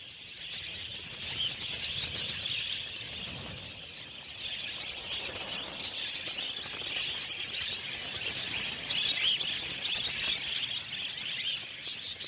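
A large flock of wild budgerigars in Australia chirps continuously, a dense, busy chatter of many small calls blending into a steady wash with no voices.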